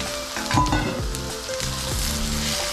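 Carrots sizzle and fry in a hot pan with garlic and onion for pancit bihon guisado, a steady close crackle with stirring scrapes, no talk.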